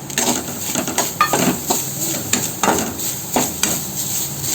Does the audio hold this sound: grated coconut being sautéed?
yes